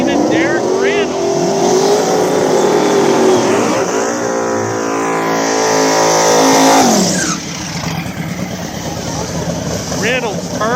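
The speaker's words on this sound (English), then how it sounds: "Reynolds, Turbo Mustang. Lane, Turbo Nova" Turbocharged Mustang and Nova drag cars roar loudly up close at an outlaw small-tire racing event, engines rising and shifting in pitch through a long sustained run before dropping off, with a commentator talking over the noise.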